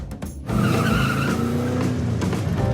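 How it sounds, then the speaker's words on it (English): A vintage restored car burns rubber on a test drive, tires squealing loudly with engine roar in a continuous close skid lasting a couple of seconds. "Burns rubber."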